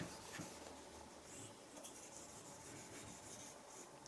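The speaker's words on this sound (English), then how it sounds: "just sharpen the back side again for the final polish" A Japanese leather plane blade has its back side rubbed on a whetstone for a final polish, giving a steady, close, continuous scraping rasp with a faint wet grit texture. It runs alone without a break.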